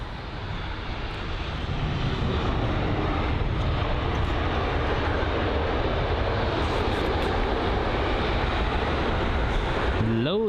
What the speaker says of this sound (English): The Scandinavian A320neo.